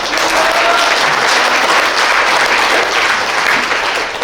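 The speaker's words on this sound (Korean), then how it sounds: "박수 한번 하겠습니다." A church congregation at a New Year service breaks into warm, sustained applause, dense clapping from many hands that stays full and even throughout.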